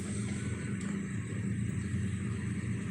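A steady low engine rumble from a car idling close by, continuous and even throughout, with no voices.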